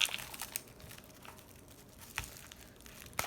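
The foil-and-paper lid of a cup noodle is peeled back in soft, crinkly tugs, with sharp crackles at intervals and quiet rustling between them, heard close up.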